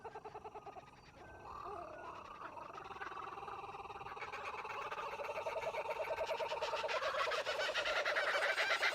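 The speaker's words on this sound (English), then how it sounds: "His geese sound very angry." Angry geese from Untitled Goose Game honk and gobble in a rising, overlapping chorus, a steady clamor that grows louder and busier toward the end.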